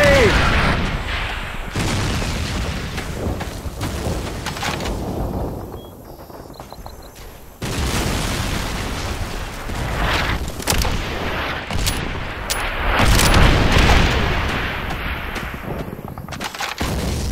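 Tank artillery booms mix with rifle fire in a Call of Duty 3 battle, giving repeated heavy blasts and crackling shots through a dense, loud din of battle.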